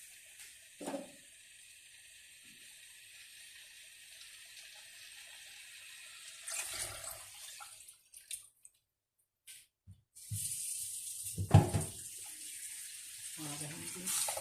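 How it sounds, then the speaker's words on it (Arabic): Water poured into a pot of meatless potato stew with thick tomato sauce, a splashing pour in short bursts near the microphone, with a few moments of speech between. "هسه أضيف لها ماء"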